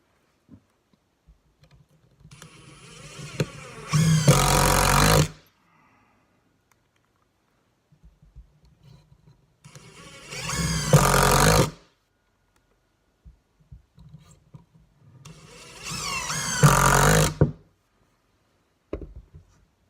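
A Ryobi brushless cordless tool runs in three separate bursts of a couple of seconds each, a whirring buzz with crackling grind, separated by quiet stretches of light clicks.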